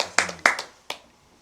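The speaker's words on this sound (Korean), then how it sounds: "박수 한번 쳐주십시오." A few sharp hand claps from a small group at a religious doctrine lecture, three distinct bursts within about a second and a half, the last one fading quickly into a quiet room.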